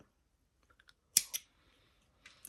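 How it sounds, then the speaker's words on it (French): Scissors cut crochet yarn in a quiet room with two quick crisp snips, followed by a few faint handling clicks and a softer rustle near the end. "Je n'oublie pas de couper mon fil"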